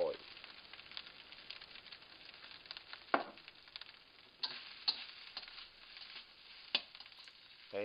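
Chicken fried rice sizzles softly in a pan as sesame oil is sprinkled in, a steady low crackle broken by scattered ticks and a few sharper pops, with no talking.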